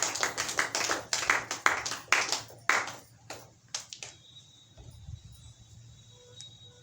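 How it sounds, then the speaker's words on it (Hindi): A crowd at a Hindi talk claps together in a burst of sharp, fairly close claps, then falls quiet. "एक बार ताली बजाएंगे"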